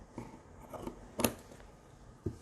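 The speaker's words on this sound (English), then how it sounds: "Then you're going to cut 1, 2, cut." Scissors cutting t-shirt fabric for weaving, a few short, soft snips spaced irregularly, one sharper cut in the middle, faint and close with no talking.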